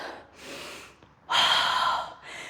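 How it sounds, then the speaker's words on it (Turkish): Deep breaths during a leg and glute workout with a resistance band: a slow inhale followed by a louder, forceful exhale, close to the microphone. "Derin bir nefes al."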